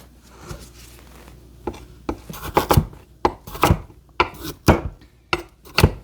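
Repeated sharp knife cuts on a board, irregular at first and then steadier, close and fairly loud with no talking.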